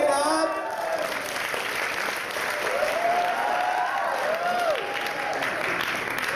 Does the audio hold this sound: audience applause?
yes